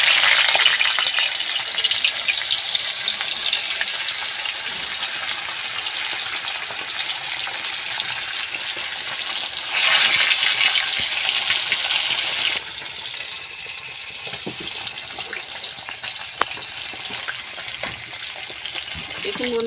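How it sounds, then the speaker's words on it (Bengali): Tilapia fish fries loudly in hot oil, a dense continuous crackle and hiss that swells briefly partway through, with no voices. "তেল গরম হয়ে গেছে এবার আমি মাছ দিয়ে দিলাম"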